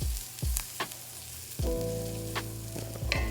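A roux of flour and fat sizzles steadily in a hot pan while a utensil scrapes and stirs through it in several distinct strokes, close up and with no talking.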